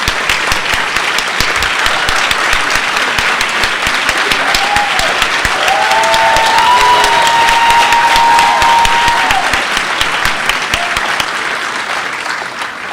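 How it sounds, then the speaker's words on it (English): A large dinner audience gives loud, dense, sustained applause for over ten seconds. There are a few faint cheers and voices in the crowd. "I'm going to ask you to give them a round of applause"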